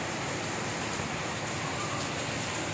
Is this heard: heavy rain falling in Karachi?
yes